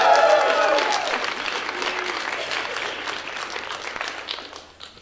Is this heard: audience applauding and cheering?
yes